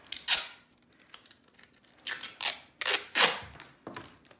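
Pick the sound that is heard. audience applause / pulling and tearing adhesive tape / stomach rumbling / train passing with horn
pulling and tearing adhesive tape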